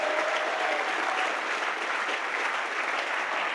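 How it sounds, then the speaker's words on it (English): Steady applause from a room full of people at a briefing, as the audience claps for the oldest person present; dense and even for several seconds without talk. "Give John a round of applause"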